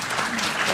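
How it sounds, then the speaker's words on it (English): A brief burst of audience applause at a book talk on disinformation, broad steady clapping with a hint of voice mixed in underneath. "That deserves a round of applause."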